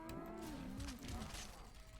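A Brahmin cow in the video game Fallout 76 gives a long, low moo that wavers in pitch, close and alone over a quiet game background.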